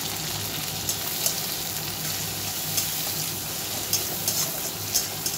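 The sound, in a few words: garlic, bay leaf and chopped onion frying in oil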